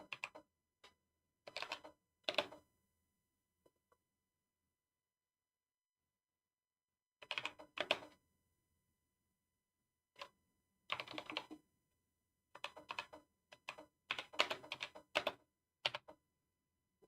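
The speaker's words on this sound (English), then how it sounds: "those are just the sound my keyboard make" Computer keyboard typed on in scattered bursts of quick clicking keystrokes, separated by long silent pauses, close and fairly quiet.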